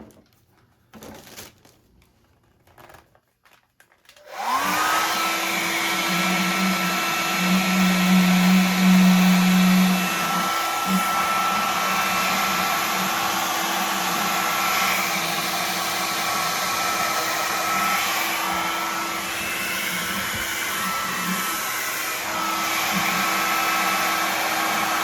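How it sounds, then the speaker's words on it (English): A handheld hair dryer blows steadily and loudly after a brief quiet start, a constant whooshing hum with a faint tonal drone as it is aimed at a vinyl monster figure, with no talk over it. "the only reason that a bald guy like myself would own a hairdryer is for working on vinyl monsters"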